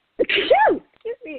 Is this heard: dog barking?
no